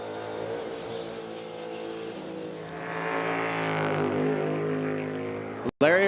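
NASCAR Cup race car pulling away from pit road at Watkins Glen, a loud engine note climbing steadily in pitch as it accelerates, ending with an abrupt cut; a voice talks over it.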